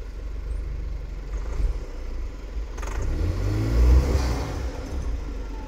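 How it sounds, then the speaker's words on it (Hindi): An off-road SUV pulls away in first gear on an off-road course, its engine rumbling and revving up in a low, rising surge, close by with no talking. "उसके बाद में एक फ्लो के साथ स्टार्ट करो फर्स्ट गियर में।"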